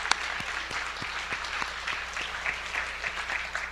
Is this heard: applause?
yes